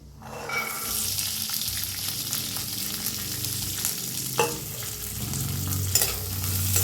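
Chickpeas and peas roast in a little oil in an iron kadai, making a steady sizzle and crackle. Scattered scrapes and rattles come as the spoon stirs them around, all close by with no talking.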